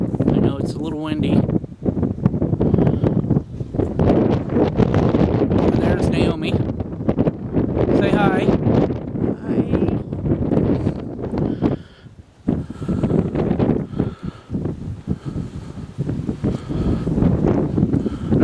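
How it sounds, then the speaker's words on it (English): Strong wind buffets the microphone outdoors during a night paranormal investigation in Pendleton, Oregon, a constant loud rumble with gusts, while people talk over it. "I know it's a little windy."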